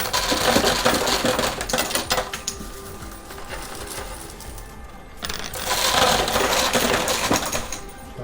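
A high limit coin pusher shoves chips and coins over the edge in two dense clattering cascades, a loud rattling rush at the start and another after a quieter lull.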